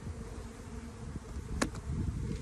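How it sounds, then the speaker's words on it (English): Honeybees hum faintly around an open hive during a spring inspection, a low continuous drone with one brief louder buzz as a bee passes close. "when I look down inside the hive, I can see tons of bees"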